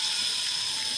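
Water spraying and splashing onto people at a Buddhist pagoda or temple in Vietnam, a steady close hissing gush that fills the whole second with no pauses and no talk.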